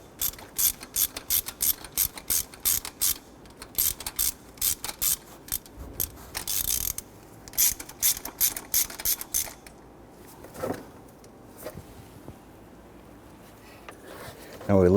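A ratchet wrench clicks in quick rapid bursts while loosening the nuts on the EGR valve of a 2006-2014 Honda Ridgeline, close and sharp for most of the stretch, thinning out toward the end.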